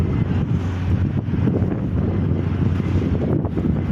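Strong wind buffets the microphone in a constant low roar at a sea port in Dumangas, Iloilo, with a faint rush of water and engine hum beneath it.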